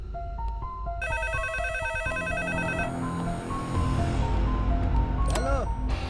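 An electronic telephone rings in repeated tonal bursts, joined by a second ringing pattern, then fades into background rustle and a brief swooping tone near the end. It is moderately loud and close, with no clear speech.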